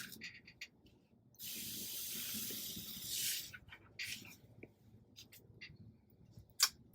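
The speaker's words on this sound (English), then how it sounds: "Then I'm gonna come in and water it in." Water poured over freshly transplanted bell pepper and tomato seedlings, a steady spraying rush for about two seconds followed by shorter splashes and drips, close and fairly quiet.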